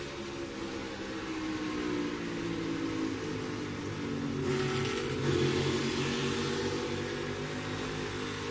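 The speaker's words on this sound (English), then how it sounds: "You can hear him on the brakes, off the gas." Onboard a NASCAR Cup stock car at Pocono Raceway, a loud engine drone runs without a break, its pitch shifting as the driver brakes and lifts off the throttle.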